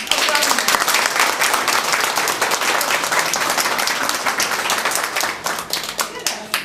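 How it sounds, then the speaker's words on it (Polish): Dense, sustained clapping from a crowd of parents at a kindergarten Mother's and Father's Day show, loud and even before thinning toward the end. "To jeszcze raz brawa"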